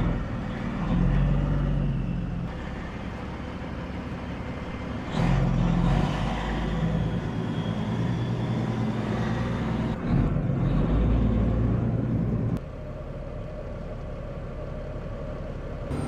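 Grain truck pulling onto a highway from a grain elevator: heavy, steady engine drone from inside the cab, with low rumble and road noise, the engine pitch rising and easing as it accelerates.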